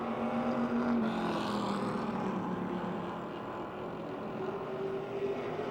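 Race cars circle Motordrome Speedway running wheel to wheel, a distant, steady engine drone whose pitch slides up and down as the cars pass, with no talk over it.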